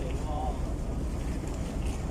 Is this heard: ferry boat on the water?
yes